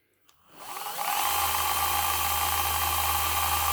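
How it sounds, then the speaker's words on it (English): A cordless drill in reverse spins up after a brief click, turning an old speedometer cable, its whine rising and then holding at a steady high-pitched hum with no talking. "just an old speedo cable into a drill, put it in reverse."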